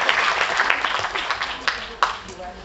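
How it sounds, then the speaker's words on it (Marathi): Audience applause fills the hall at the Sakhi Gaurav award ceremony in Ravindra Natya Mandir: a steady wash of clapping with a few sharper bursts, fairly close and continuous. "चल, मान्यवरांसाठी जरा जोरदार टाळ्या होऊन जाऊ दे."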